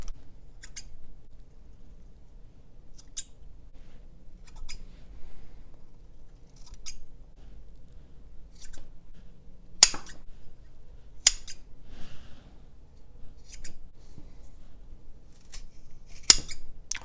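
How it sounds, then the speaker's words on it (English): Very sharp scissors cutting through macrame cord, a handful of crisp snips and clicks spaced apart over a quiet background, each cut a single short sharp squeeze. "This is the only pair of scissors that I actually was able to cut through this with one squeeze"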